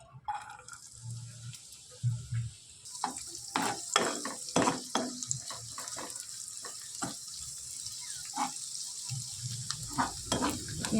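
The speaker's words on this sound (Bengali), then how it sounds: "এই যে এক্সট্রা পেঁয়াজ কুচুনিটা ছিল এটা আমি এতে একটু ভেজে নেব" Chopped onions fry in hot oil in a kadai while being stirred for a Kolkata-style beef curry. A steady sizzle runs throughout, broken by sharp scraping and clattering strokes of the spatula at close range.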